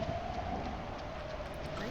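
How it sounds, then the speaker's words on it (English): Heavy rain in the video game Bear and Breakfast: a constant, dense hiss of downpour with a faint steady tone running underneath. "Rain here is so bad."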